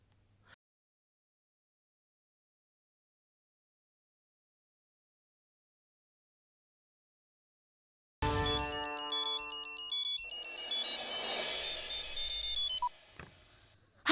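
A phone ringtone for an incoming call plays loudly and steadily for several seconds as a repeating electronic melody after a long silence, then cuts off abruptly.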